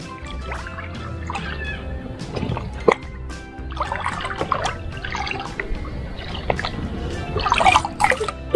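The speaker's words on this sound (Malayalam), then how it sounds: "നമുക്ക് നല്ലതായിട്ട് മിക്സ് ചെയ്ത് കൊടുക്കാം." Liquid fertilizer for fruit plants being stirred into a container of water, giving irregular bursts of sloshing, dripping and trickling liquid at close range.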